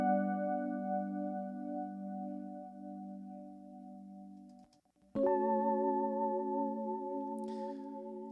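A DX7 synth part runs through tape echo delay and pitch shift, a sustained chord holding then breaking off around the middle before a higher shifted chord enters and holds, faint and alone.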